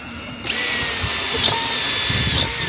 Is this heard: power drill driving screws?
yes